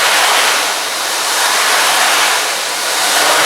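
An ocean drum imitates waves with a loud, hissing rush of rolling beads that swells and recedes in slow surges, like surf washing in and out.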